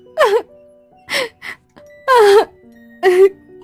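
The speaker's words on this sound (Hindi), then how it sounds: "तभी उसको वही रोने की आवाज सुनाई दी" Wailing, moaning cries of a girl as a horror cartoon sound effect, four drawn-out eerie sobs rising and falling with short pauses between them, loud and close.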